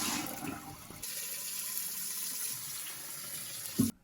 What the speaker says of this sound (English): after soaking, I'm going to drain it